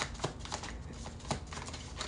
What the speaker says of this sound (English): before I start shuffling like that, I shuffle them like this, too